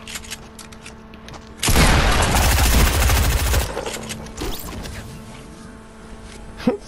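Sniper fire in Fortnite erupts as a loud dense burst of crackling shots lasting about two seconds, then trails off into quieter rattles and one last sharp crack.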